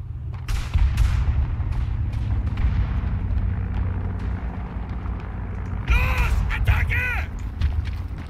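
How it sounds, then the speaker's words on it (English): Gunfire and artillery booms from the World War I shooter Verdun on the Picardie frontline map, a dense, continuous rumble of distant shots and explosions with a few sharper close cracks, while a voice speaks over it. "There's loads of gunshots happening."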